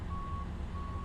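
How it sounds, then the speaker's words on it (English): A fuel truck reverses in a flight simulator, its steady electronic reversing beeps pulsing faintly over a constant low engine rumble. "Still waiting on fuel truck"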